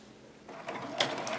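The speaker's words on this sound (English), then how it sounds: "we're actually going to just sew 1/4 inch down this short edge" A sewing machine runs a quarter-inch seam down the short edge of quilting fabric strips for a tic-tac-toe game, starting softly and then settling into a steady, close mechanical whir.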